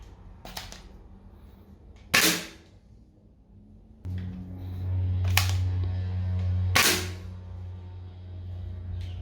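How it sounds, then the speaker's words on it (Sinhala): Rifle fire in the Minecraft video game at a target, a few sharp isolated gunshot cracks spaced seconds apart over a low steady game hum. "අපි අපේ ටාගට් එකටම ෂූට් කරලා බලමු"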